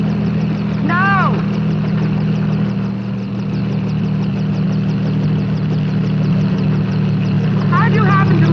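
A helicopter flying, its engine giving a steady, loud, low droning hum that holds throughout, with short bursts of people talking over it near the start and end.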